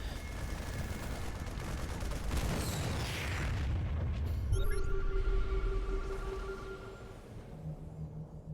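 Rapid bursts of gunfire from units attacking tanks in a StarCraft II match, a dense crackle over game effects and a low rumble, with tonal beeps and hums rising midway.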